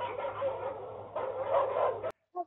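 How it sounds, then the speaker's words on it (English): Barking dogs played back through AirPods earbuds in an office setting, heard as a steady run of muffled, band-limited yips and barks for about two seconds before cutting off, then one brief faint bark. "this is the barking dogs test with the AirPods"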